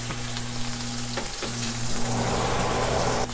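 Bone-in ribeye steak searing in a hot pan, a continuous close crackling sizzle that spits and hisses steadily with a low hum underneath and no talking.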